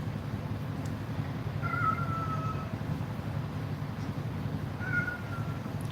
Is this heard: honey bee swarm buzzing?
no